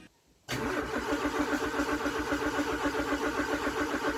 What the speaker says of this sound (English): the car still wouldn't start